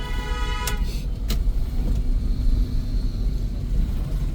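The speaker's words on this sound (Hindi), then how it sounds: "1 टाइम लॉन्ग हॉर्न प्रेस करते हैं" A car horn blares in one long press at a blind turn and cuts off, leaving a steady engine rumble from inside the moving vehicle.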